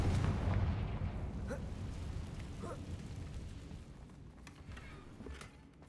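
Bombarda and Confringo spells explode in the video game Hogwarts Legacy, heavy booming blasts rolling out over a continuous low rumble, with fainter bursts trailing off across the stretch.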